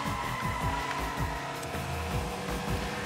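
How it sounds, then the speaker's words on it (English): An arcade-style racing car drifts in Hotshot Racing, a steady engine drone with smeared tire noise running continuously and loud throughout, no voice over it. "When you drift in this game, that's how you build up your boost meter"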